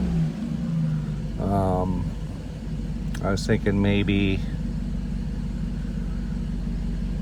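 A 1991 Mercedes 500SL with its engine running at high idle, a steady low rumble that persists throughout while someone talks briefly over it.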